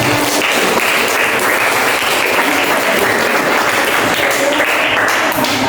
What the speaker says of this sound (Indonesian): Dan terima kasih untuk Kak Diki, tepuk tangan